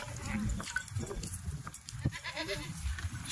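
Kathiawari goats bleat several times close by, short wavering calls spread across the clip over a noisy farmyard background.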